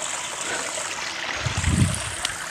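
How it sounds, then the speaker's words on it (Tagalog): River stream water flowing steadily nearby in Davao de Oro, a continuous rushing wash with a slightly louder gurgle partway through. "dito sa ilog sa Sapa"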